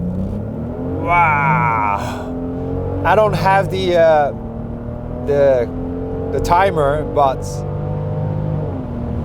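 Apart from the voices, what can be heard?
Genesis GV70 SUV accelerating hard with launch control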